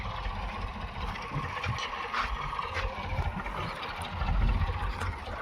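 A tractor engine idles with a steady low rumble throughout, mid-distance and constant, with faint outdoor background noise on a farm during the peanut harvest.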